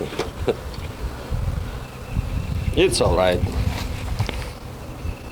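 Honeybees at an opened hive during an inspection and split give a steady low buzzing in the background, while someone speaks briefly over it.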